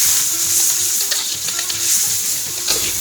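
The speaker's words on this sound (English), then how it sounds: "we are just going to let the onion stir fry for a bit until they are slightly softened" Chopped onions stir-frying in about four tablespoons of hot oil for mutton fried rice, a steady close sizzle with scraping stir strokes throughout, no talking.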